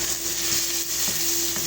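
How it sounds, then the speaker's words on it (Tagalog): Ginger sautés in hot oil for shrimp, a steady close frying sizzle with a few light stirring taps and a faint hum underneath. "Gisa tayo ng luya."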